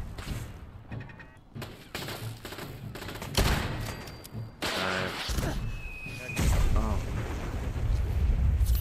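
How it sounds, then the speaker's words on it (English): In Fallout 4, nuclear launcher blasts and gunfire produce a dense barrage of loud booms, cracks and rumbling explosions that build toward a heavy, sustained roar at the end. "Someone's firing nukes."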